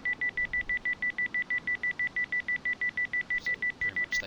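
Planted devices in the video game DayZ beep in a steady, rapid series of identical high electronic tones, evenly spaced and continuous throughout, with faint background noise.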